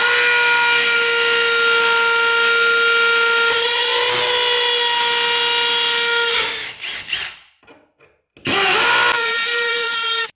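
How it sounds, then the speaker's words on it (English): A hammer drill on hammer setting with a 5 mm masonry bit bores through wall tile, a loud steady whine with harsh rattling that cuts out briefly near the end, then resumes at full force. "make sure that it's on hammer function. And we're also using a masonry bit."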